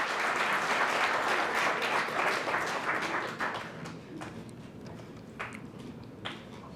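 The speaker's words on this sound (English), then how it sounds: "come on, let's give her another hand clap." Hand clapping from an audience at a scholarship reception, a loud, steady round of applause that gradually fades, leaving a few scattered claps and taps trailing off at the end.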